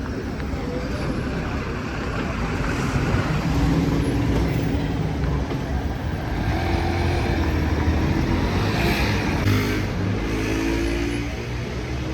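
Inside a London Enviro400H hybrid double-decker bus on a busy route, a steady low engine and road rumble with a faint mechanical whine runs continuously and fairly loud throughout.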